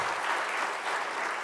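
Audience applause at a town hall meeting, a steady dense wash of clapping held evenly throughout, with no one speaking over it.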